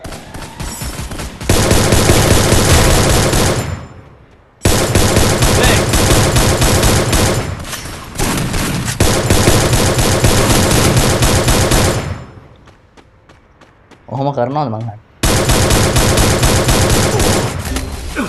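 Sustained automatic gunfire from a video game shootout, loud and close, bursts rattling for several seconds at a time with short breaks, and a voice talks in one gap.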